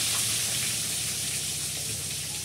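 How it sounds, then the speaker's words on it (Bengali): Potatoes rubbed with turmeric and salt fry in a pan, giving a steady, close, broadband sizzle with faint crackles that holds at an even level throughout, with no talk over it. "আলুটা ভেজে নিচ্ছি"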